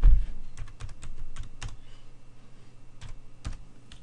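Someone types on a computer keyboard at a command prompt: close, crisp key clicks in irregular bursts with short pauses between them.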